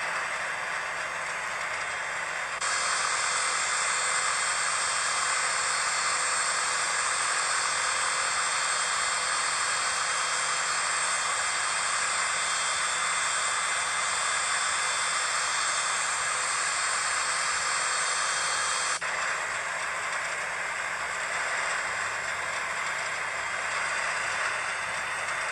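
Cessna 208 Caravan turboprop in Infinite Flight, a loud, steady broadband hiss and roar swelling as power comes up for takeoff on a Caribbean island hop, holding constant for most of the run before easing off.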